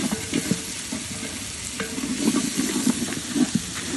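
Ground spice masala frying and being stirred in a pan for chicken, with steady sizzling and scraping stir strokes throughout, fairly close and moderately loud, with no talking.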